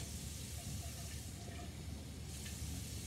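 Water poured onto a rock mixture in a classroom demonstration gives a steady, fairly faint hissing splash that runs throughout without a break.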